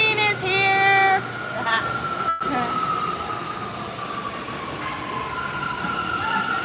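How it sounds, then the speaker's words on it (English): A subway or metro train pulls into a station, rumbling close and loud with high squealing wheel tones at first, then a steady rolling roar with faint clatter and some voices nearby. "So let me go because my train is here."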